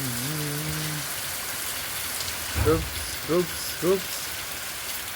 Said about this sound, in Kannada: ಮಳೆ ಗಾಯ್ಸ್.